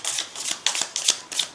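A deck of cards is riffled and shuffled for a card reading in several quick, crisp bursts close to the microphone.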